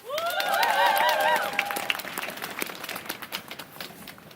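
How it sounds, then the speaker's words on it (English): Audience applause at a women's march, a burst of clapping from a crowd that rises quickly, holds briefly and then thins into scattered claps, with cheering voices at the start. "A big applause, please."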